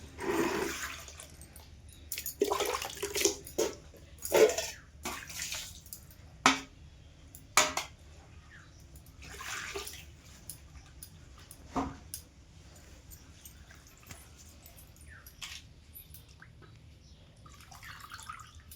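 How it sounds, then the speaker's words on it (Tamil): Tap water runs and splashes while prawn heads are rinsed by hand in a home kitchen, with irregular trickles, drips and wet squishing bursts, close and fairly quiet. "கழுவுறாங்க, நல்லா கழுவி எடுக்கட்டும்."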